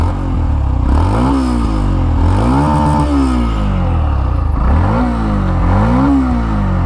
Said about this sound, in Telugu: ఫస్ట్ ఎగ్జాస్ట్ సౌండ్ వినండి.